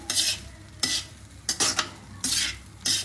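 A spatula stirs fried rice seasoned with garam masala in a hot pan, giving repeated scraping strokes in separate bursts over a soft, steady sizzle, close and fairly loud with no talk.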